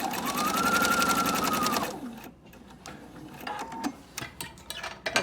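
A sewing machine stitches a fabric Bible cover in a rapid, steady whir for about two seconds, then stops and leaves light handling clicks and rustles nearby.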